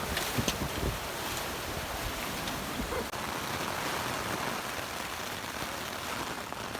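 A small stream swollen into a full river after a day of steady rain in Scotland roars continuously, a dense, broad, unbroken rush of water close by, with no voices.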